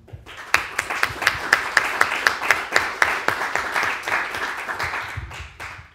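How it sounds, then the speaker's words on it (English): Audience at an iOS developer community meetup in Berlin applauds the host: a round of clapping with distinct sharp claps standing out near the front, fairly loud, swelling then thinning out over several seconds. "I'd like to thank a lot to our host here, maybe with a round of applause."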